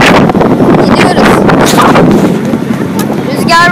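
Strong wind roars across the microphone with a steady rumbling buffet, loud and continuous, with faint background noise beneath it, near the Statue of Liberty in New York.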